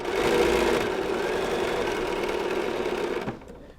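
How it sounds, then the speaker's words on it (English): A sewing machine stitches quilt blocks together with right sides facing. It gives a steady, close, loud mechanical hum and whir for about three seconds, then slows and stops. "you're just going to keep sewing the blocks right sides together"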